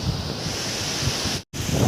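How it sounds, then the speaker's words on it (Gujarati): Strong wind after two days of heavy rain roars steadily into the microphone as a loud, continuous rush with low buffeting gusts, briefly cutting out for a moment before resuming. "તમે જોઈ શકો પવન કેવો ચાલુ જ છે અત્યારે"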